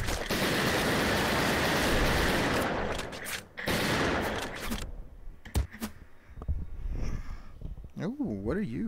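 Shotgun blasts and rapid gunfire in the VR shooter Operation Serpens, a dense burst of loud shots at first, then sparser single pops with a voice talking over the action.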